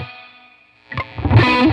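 Electric guitar on the bridge pickup with a sharp, dug-in picked tone through distortion. A single held note fades, then a short loud burst of hard picking follows.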